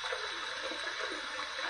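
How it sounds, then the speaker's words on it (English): Hot water runs steadily from a tap over a safety razor during a wet shave, a close, continuous broadband rush with no pauses or voices. "We're going to heat it under some hot water."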